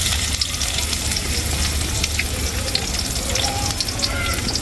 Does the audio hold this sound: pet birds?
no